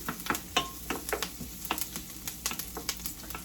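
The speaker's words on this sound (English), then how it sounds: "So, okay, so we're just gonna saute them." Ingredients for pancit bihon sautéing in a pan, a steady close sizzle broken by frequent sharp clicks and scrapes of a utensil stirring against the pan.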